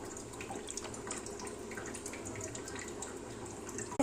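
Hands are rinsed under a running tap, a steady splash of water falling into a sink with faint drips, close and continuous, ending in a brief clatter.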